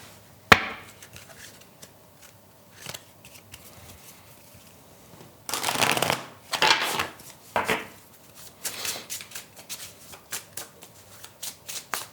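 A deck of cards is shuffled by hand, with crisp riffling bursts and loose cards dropping and slapping down in sharp clicks, close and fairly loud, with no talking.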